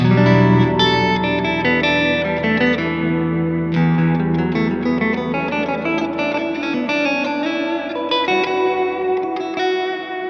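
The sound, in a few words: guitar reverb with reduced pre-delay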